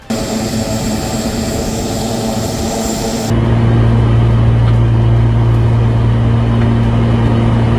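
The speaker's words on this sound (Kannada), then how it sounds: "ಮೋಡ ಬಿತ್ತನೆ ಮಾಡುವ ವಿಶೇಷ ವಿಮಾನಕ್ಕೆ ಚಾಲನೆ ಕೊಟ್ಟರು" Engine of a special cloud-seeding aircraft at Hubballi airport, a loud steady drone with no break, stepping up to a heavier, deeper roar partway through and holding there.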